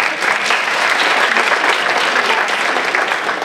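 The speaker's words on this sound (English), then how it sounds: "Give them a round of applause." An audience at a school district staff session applauds its new teachers, producing a loud, sustained wash of clapping from many hands with no break.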